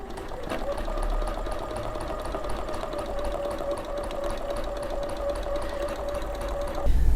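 A sewing machine stitches a quilt along a ruler in steady, rapid, even running, a continuous mechanical hum with fast repeating needle clicks that stops abruptly near the end.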